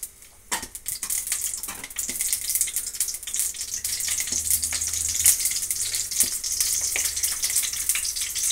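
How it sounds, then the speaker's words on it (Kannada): Mustard seeds frying in hot oil while tomato rice is cooked, a steady close sizzle with scattered sharp pops and crackles building through the clip, no talk. "ನಂತರ ಸಾಸಿವೆ ಹಾಕ್ತಾ ಇದ್ದೀನಿ ಸ್ವಲ್ಪ ಬೇಯಲಿರು"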